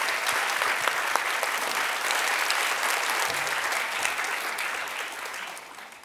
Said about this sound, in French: on peut applaudir tout le monde, on peut applaudir notre jury